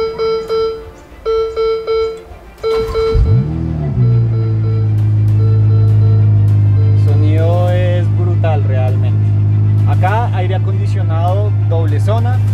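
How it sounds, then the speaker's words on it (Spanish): A Ferrari F8 Spider's V8 starts after a few electronic beeps, with a sharp rising rev at ignition, then settles into a deep, loud, steady idle while someone talks over it. "Vamos a encenderlo porque este carro suena una cosa loca."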